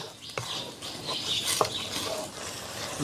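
Stirring cassava in cooking water in a pan over high heat, scraping and splashing strokes with light sizzling and patter, close up and irregular.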